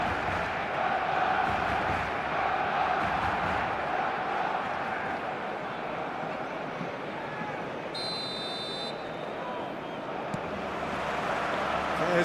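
Loud, continuous roar of a football stadium crowd in a video game, a dense broadband wall of cheering and chanting that holds steady throughout without a break.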